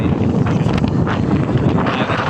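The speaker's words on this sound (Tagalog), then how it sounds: "Mahangin po tayo dito sa taas." Strong wind buffets the microphone in a steady, loud roar with gusty rustling throughout, no pauses.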